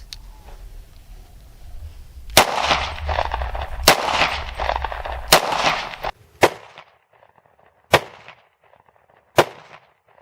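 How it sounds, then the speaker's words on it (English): Beretta PX4 Compact .40 pistol fires three Hornady 180 grain hollow point rounds in quick succession, sharp loud cracks over a steady background roar, followed by several more distant, fainter reports spaced about a second and a half apart. "Rob shot a 180 grain Hornady custom round. It's a hollow point, 3 rounds in it"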